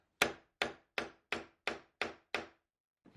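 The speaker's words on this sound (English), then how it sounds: "When I get close to the wood, I'm going to use my punch to drive it in the rest of the way." Finish nails driven into wood with a hammer and nail punch: seven sharp, evenly spaced taps in quick succession, close and crisp, then a pause before another strike begins.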